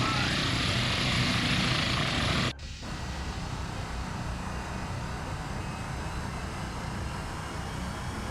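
A stubby Ka-25 helicopter in the naval game Sea Power gives off a steady, loud rotor and engine drone that cuts out sharply for a moment and then resumes at a slightly lower level.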